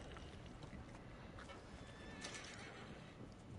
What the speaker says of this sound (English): Give me my goddamn horse.